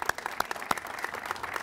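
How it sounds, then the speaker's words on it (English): Crowd applause at an outdoor groundbreaking ceremony for Crocker Field, a short burst of many hands clapping at moderate distance with sharp individual claps standing out. "He needs another round of applause, please."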